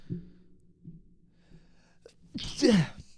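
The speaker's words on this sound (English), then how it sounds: "So it's good that I sneezed." A few soft breaths build into one loud, close sneeze with a sharp vocal burst near the end.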